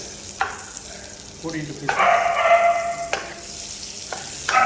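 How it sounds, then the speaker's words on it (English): Crushed belacan shrimp paste stir-frying in a little oil, with a steady close sizzle, several sharp clatters of a spatula against the pan, and a louder burst of frying in the middle. "Just stir fry the belacan."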